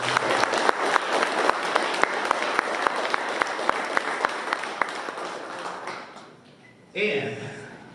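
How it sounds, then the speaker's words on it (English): A crowd at a model car show applauds steadily for several seconds, with sharp individual claps standing out, before the clapping fades and a voice begins speaking. "Can we get a round of applause to all the builders who brought out their incredible work?"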